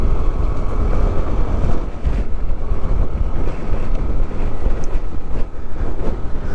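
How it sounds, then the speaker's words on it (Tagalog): Steady, loud wind roars and buffets against the microphone on a bypass road, a constant rushing with no voices. "Lamig ng simoy ng hangin dito."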